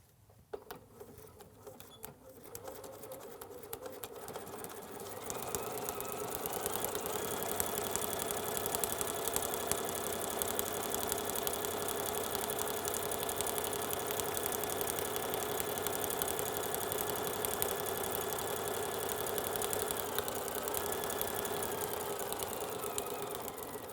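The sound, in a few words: sewing machine stitching fabric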